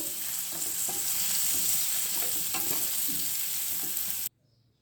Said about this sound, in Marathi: सर्व मसाले घातल्यावर कारले व्यवस्थित हलवून घ्यायचे